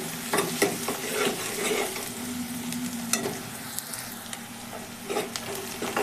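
Onions sizzling in a pan for dal while being stirred, a steady frying hiss broken by scraping stirs and small clatters of the spoon, close and fairly quiet with no talk.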